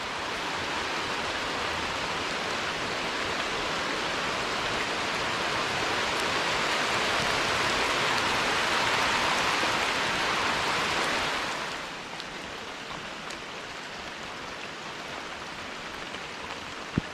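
Heavy rain downpour at Fall Creek while fishing, a dense continuous hiss of drops on surfaces that holds steady, then eases noticeably to a lighter patter near the end.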